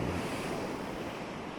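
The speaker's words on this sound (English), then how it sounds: "Just listen to the sounds of the waves very gently as they bring themselves closer to the beach" Ocean waves washing onto a beach, a steady soft roar of surf with wind noise, gentle and continuous, with no voices over it.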